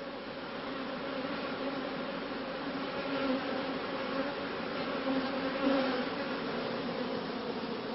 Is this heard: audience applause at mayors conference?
no